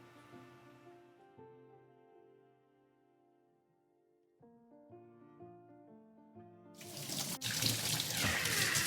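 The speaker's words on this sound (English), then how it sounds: "Wash hands, wash hands." Water runs from a tap for hand washing, rushing loud and steady near the end after a stretch of soft melodic music.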